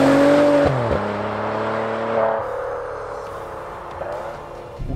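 A 2014 Maserati Ghibli S Q4 engine roars loudly nearby, its pitch sliding down through gear changes as revs drop, then settling into a steady lower drone.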